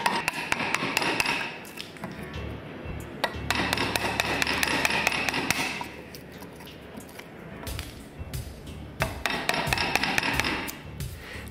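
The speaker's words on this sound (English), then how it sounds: "Then with the chisel you're going to remove that triangle of material." Chisel being tapped to chop out a triangle of wood from a block for a rebate plane, a series of sharp knocks and taps in bursts with brief pauses, fairly close and moderately loud.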